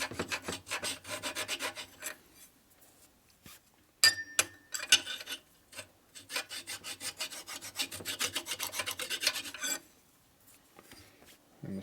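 A metal file rasps against a part of a failed 1989 FXR 89ci Evo S&S stroker motor, giving steady rhythmic back-and-forth strokes, close and fairly loud, with a few sharp metallic clinks in the middle.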